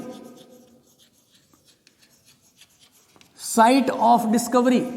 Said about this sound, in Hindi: यहां मैं लिख देता हूं साइट ऑफ डिस्कवरी